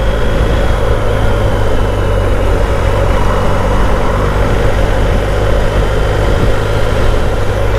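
A KTM 1290 Super Adventure S motorcycle engine drones steadily and loudly while riding, a constant dense roar mixed with wind noise and no pauses.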